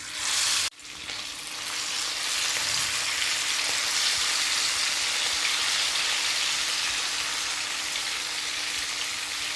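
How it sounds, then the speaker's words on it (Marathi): Marinated prawns for a Konkani prawn thali dropped into hot oil in a pan, a brief thump and then a loud, steady, rain-like sizzle that keeps going. "आता आपण त्याच्यामध्ये ही कोलंबी जी आपण मॅरिनेट करून घेतलेली आहे ना ही ह्याच्यामध्ये आपण टाकून घेणार आहोत"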